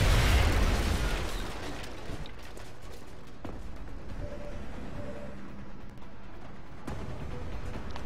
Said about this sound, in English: at least grenades go wherever I want them to go